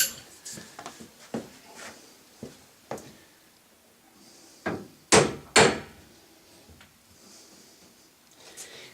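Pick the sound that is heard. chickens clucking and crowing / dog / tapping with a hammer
tapping with a hammer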